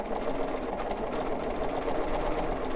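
Domestic sewing machine quilting through layered fabric, a steady fast whirring drone with rapid needle chatter, close and continuous with no talk.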